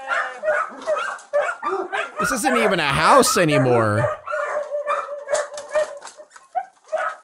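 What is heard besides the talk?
frightened dog barking and whimpering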